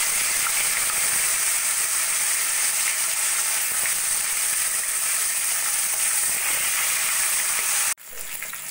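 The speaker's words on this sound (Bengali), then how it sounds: "মাছগুলো ভেজে নেব।" Katla fish pieces fry in hot mustard oil in a kadai, giving a loud, steady hiss and crackle that runs unbroken and then drops sharply near the end, with no talking.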